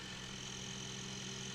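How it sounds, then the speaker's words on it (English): A Red Bull RB20 Formula 1 car's engine in Assetto Corsa holds a steady, even drone, idling continuously at moderate level with no talk over it. "But we can switch the engine on."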